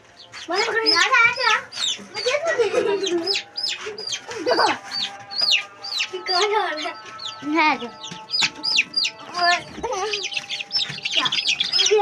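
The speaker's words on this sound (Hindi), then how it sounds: "एक चूजा नहीं पकड़ा जा, निकल ही जा रहा है।" Chickens and chicks cluck and squawk in agitated bursts while being caught by hand on a farm, the birds close and loud as people talk over them.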